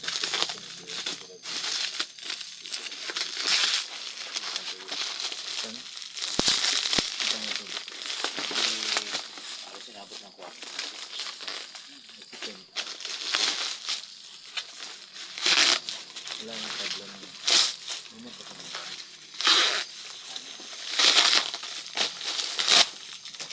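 A heavily wrapped package being unwrapped, with continuous close crinkling and crumpling of wrapping and sharp tearing bursts, while a person talks throughout.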